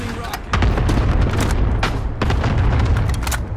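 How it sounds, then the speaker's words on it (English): Cluster strike explosions in Call of Duty: Modern Warfare pound in a heavy rolling barrage, deep booms layered with sharper cracks, loud and sustained under voices calling out. "Cluster strike is active."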